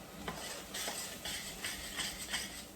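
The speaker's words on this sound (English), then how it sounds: "You can hear that sizzle hit." Beef broth sizzles as it hits a hot roux in a pan while a utensil stirs steadily, giving repeated scraping swishes. Close and moderately loud, with no voices.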